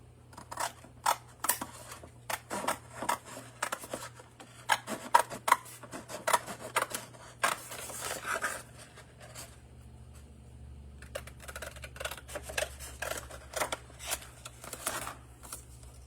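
Scissors snip off small paper pieces for a handmade double diamond card, making a steady series of close, crisp cuts with faint rustling of paper between them and a brief quieter pause midway.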